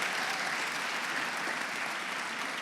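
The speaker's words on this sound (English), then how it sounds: "So please give them all a huge round of applause." Steady, dense audience applause fills the hall at a Black History Month celebration in Gwinnett County, Georgia, an even wash of many hands clapping without pause.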